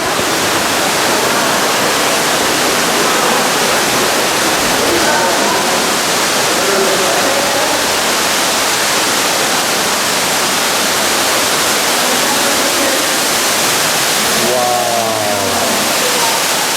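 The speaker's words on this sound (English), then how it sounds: "we're down on the platform by the top of the waterfall will be about 120 feet below the Earth's surface" Underground waterfall inside a cave, heard from a platform near its top about 120 feet below the surface, a loud, dense and unbroken roar of falling water with faint voices buried beneath it.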